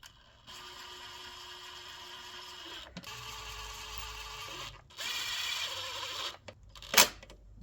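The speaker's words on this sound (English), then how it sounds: "so I still use the lowest strength on my drill." A cordless drill on its lowest setting drives screws on a spark plug cover of an older Saab 9-3, giving short whirring bursts with pauses between, then a sharp click near the end, fairly quiet and close.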